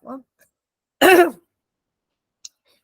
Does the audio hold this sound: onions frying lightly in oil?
no